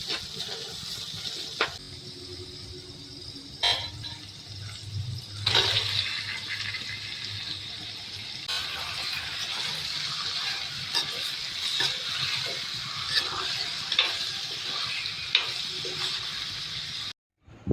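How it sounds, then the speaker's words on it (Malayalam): Chicken pieces hit a pan of sautéed onions and sizzle steadily, a continuous hissing fry with occasional clinks and stirring sounds, loud and close throughout. "നമുക്കിനി ചിക്കൻ ഇതിലേക്ക് ചേർത്ത് കൊടുക്കാം"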